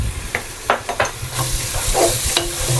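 Ginger, garlic and green chilli paste stirred into a hot pan for chicken fry piece pulao, with steady frying sizzle and several sharp scraping strokes of the spoon against the pan.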